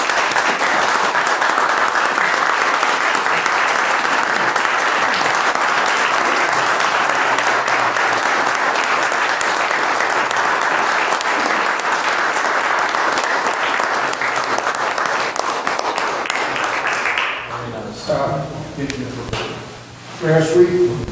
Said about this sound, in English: That deserves an incredible round of applause.